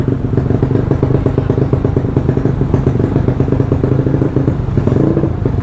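A Yamaha Mio scooter built up to 200cc runs steadily at idle, close and loud, its throbbing engine note carrying a rough clattering texture without pause.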